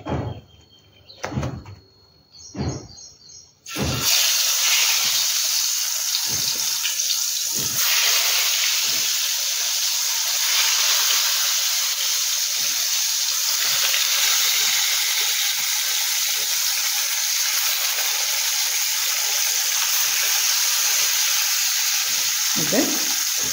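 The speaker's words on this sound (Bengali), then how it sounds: "এইভাবে বেগুনগুলোর এপিট ওপিট করে ভেজে নিতে হবে" Eggplant slices sizzle in shallow oil in a pan, a loud steady hiss that starts abruptly after a few knocks and clatters, with occasional soft thumps from turning the slices over.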